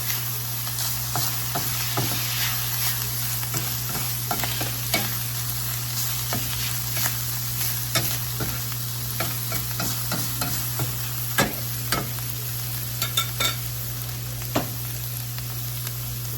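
A spoon stirs a stuffed shells filling seasoned with oregano in a bowl, with scattered soft scrapes and clicks at an irregular pace over a constant low electrical hum and a faint high whine.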